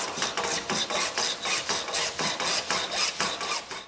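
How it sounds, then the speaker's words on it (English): A hand saw cuts through 3/4-inch schedule 40 PVC conduit in quick, regular rasping strokes, about three per second, close and fairly loud, with no talking. "From that same piece of 3/4-inch schedule 40 PVC conduit, I'm cutting off about a 6-foot section."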